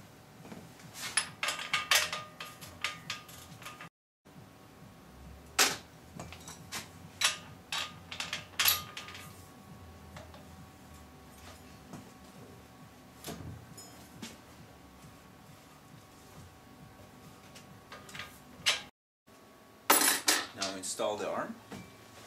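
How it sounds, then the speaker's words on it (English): A special socket wrench tightens the main nut of a Schlumpf High Speed Drive bicycle crank, with scattered metallic clicks and clinks of tool against metal at close range, broken by brief pauses. "This is a special socket for tightening the nut."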